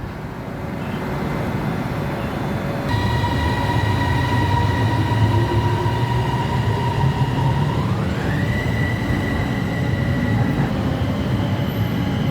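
A Bangkok Pink Line metro train rolls into the station with a loud, steady rumble, while high squealing tones from the wheels or motors hold and then rise as it slows.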